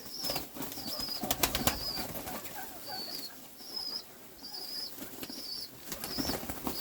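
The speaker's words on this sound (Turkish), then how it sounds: "Beyaz güvercinler böyle yemeklerini yiyorlar efendim." Repeated soft wing flaps and shuffling of white pigeons feeding at close range in a London garden, with faint high chirps and occasional cooing in the background.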